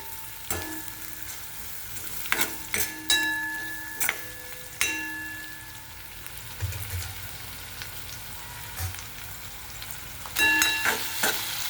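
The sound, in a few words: onions frying and being stirred in a pan on medium heat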